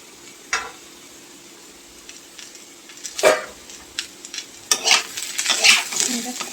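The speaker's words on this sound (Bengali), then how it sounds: "আলুটা প্রায় ভাজা ভাজা হয়ে গেছে।" Chopped potatoes frying in a pan with ginger, garlic and dried chillies. A soft sizzle runs underneath while a spatula scrapes and clatters in irregular bursts that grow busier toward the end.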